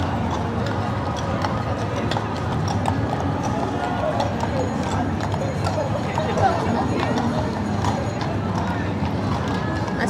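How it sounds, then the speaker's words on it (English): NYPD police horses lead a Philippine Independence Day parade in New York City, their hooves clip-clopping steadily on the street. A dense, continuous crowd and street bustle surrounds them, with voices throughout. "So we're starting with members of the New York Police Department on horseback"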